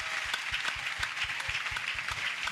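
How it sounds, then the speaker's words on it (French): A church congregation at an evangelistic crusade in Bafoussam claps in a steady rhythmic beat, crowd noise filling the space between the claps, without distinct speech. "Clap for Jesus."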